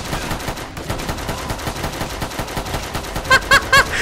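A pistol fires in the video game Fallout 4: Far Harbor, a rapid, steady series of close shots, followed by three louder, sharper bursts at the very end.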